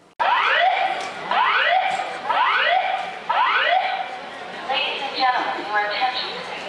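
An alarm repeats a loud rising whoop about once per second, then shifts to a faster warbling tone, sounding alone and fairly close.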